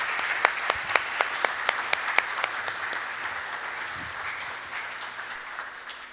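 A conference audience at a GNU Radio project talk applauds. Sharp, distinct claps come first, then blend into a dense, even wave of clapping that slowly fades.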